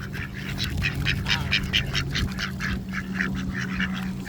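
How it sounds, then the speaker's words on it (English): Ducks being fed quack again and again in a busy, overlapping chorus, close and clear, with a low steady hum beneath them and no speech. "I'm gonna show you how to feed these, how to take care of these ducks"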